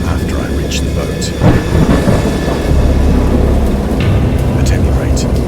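A thunderstorm brings heavy, close thunder rumbling over steady rain, with a deep roll swelling and fading across the stretch and a constant wash of rainfall beneath it.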